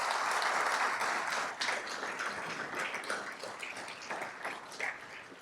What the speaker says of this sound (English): Let's give those sponsors a huge round of applause